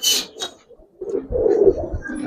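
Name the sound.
Giribaz pigeon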